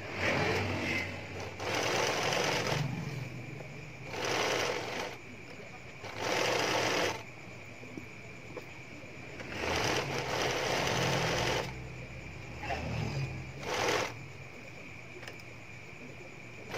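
A sewing machine stitches fabric for a tank top outfit in short repeated bursts of a few seconds each, close and fairly loud, with pauses between runs.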